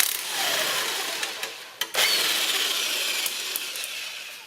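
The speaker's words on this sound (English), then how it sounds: "I'm using my big electric impact gun here" Large electric impact gun loosening exhaust bolts on a 2018 Subaru Forester, a sustained harsh whirring buzz with rattling hammer bursts, close and loud, briefly dipping before resuming strongly.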